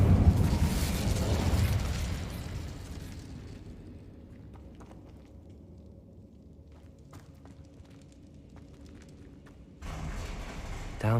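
A fiery Incendio spell blast in the Hogwarts Legacy game, a loud roaring burst that fades into quiet rumbling with scattered small clicks before another surge of noise at the end.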